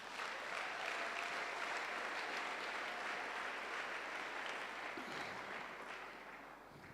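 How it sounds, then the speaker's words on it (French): Applause from a church congregation at a worship service, a steady dense clapping that fills the whole stretch and tapers slightly near the end, with no voices over it. "Applaudissons pour le Seigneur."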